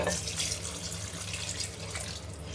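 Steady gush of water poured into a pot of mutton for biryani, continuous and fairly loud with no talking.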